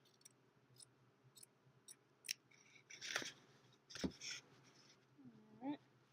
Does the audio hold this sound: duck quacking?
no